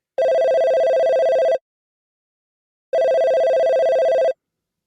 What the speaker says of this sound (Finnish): puhelin soi uudelleen